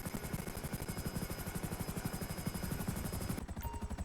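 Rapid, steady rotor thumping from an Akula stealth attack helicopter in GTA 5 Online runs throughout at a moderate distance, with a slight change in tone near the end.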